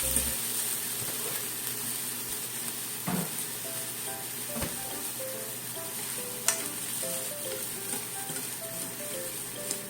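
Tomato and parboiled broccoli being stir-fried, a quiet steady sizzle with occasional spatula taps and scrapes against the pan.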